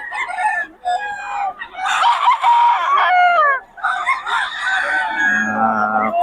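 Young gamecocks at a rooster market in Bocaue crow repeatedly, several loud, close cock-a-doodle-doo calls overlapping one another, with clucking and market chatter faintly in the background.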